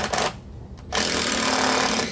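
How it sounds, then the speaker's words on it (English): A power drill backing screws out of a wooden back form, a short whir followed by a pause, then a longer steady high-pitched whine as a screw is pulled, loud and close. "the last screws I put in are the first ones I'm going to pull out."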